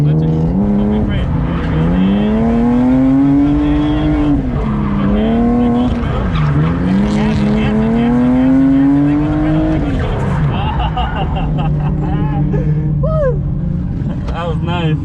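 BMW E36 drifting at a drift event, engine revving in long rising and falling sweeps with tires squealing, loud and close throughout, someone talking over it.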